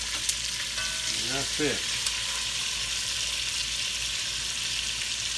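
Oxtail pieces searing in a hot pan give a steady, close sizzle with a constant hiss throughout, and a voice briefly speaks over it early on.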